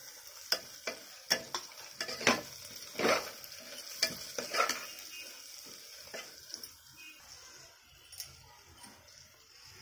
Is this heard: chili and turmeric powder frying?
yes